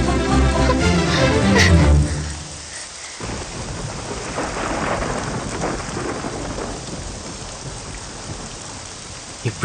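Heavy rain in a Telugu film scene, a loud rumble of thunder at the start fading into a steady dense downpour that continues throughout with no speech.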